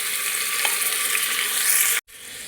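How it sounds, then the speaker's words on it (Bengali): Potatoes set one by one into a ghee-coated pressure cooker for chicken biryani, a steady close sizzle and frying crackle running throughout, cut by a brief gap near the end before resuming. "এবার এর মধ্যে আমি আলুগুলো এক এক করে সাজিয়ে দেব।"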